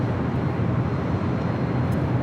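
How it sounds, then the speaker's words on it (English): A Japan Airlines Boeing 777-300ER jet at LAX, a steady broadband engine roar with a deep low rumble, loud and constant with no break. "That was Japan Airlines, the 777-300ER heading to Tokyo Haneda, Flight 15."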